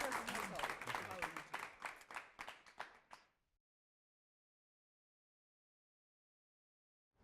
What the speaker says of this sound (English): can we get one more round of applause for Big Bill